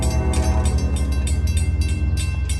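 A CSX local freight train rolls through a 4-track railroad crossing in Kenova, with a loud, close, steady low rumble and rhythmic clacking of wheels over the rails that runs continuously throughout.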